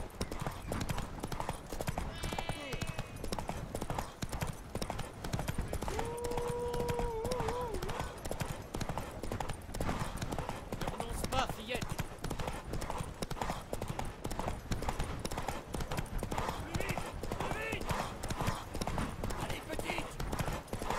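Rhythmic hoofbeats of a galloping horse in The Witcher 3: Wild Hunt clatter steadily under a bed of music, with a brief whinny early on.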